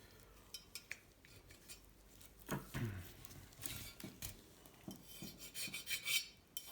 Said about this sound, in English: But since I'm going over this with sandpaper anyway, I'm giving it a mild degree of finish.